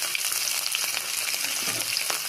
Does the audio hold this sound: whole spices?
yes